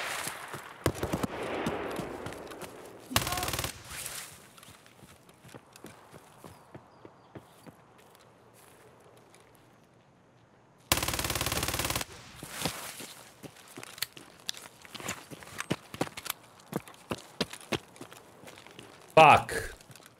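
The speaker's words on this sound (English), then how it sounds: "Some silence guns coming from this way." Suppressed gunfire in a first-person shooter: soft muffled pops and clicks scattered at a distance, some rapid bursts, with footsteps and brief louder noise bursts in between.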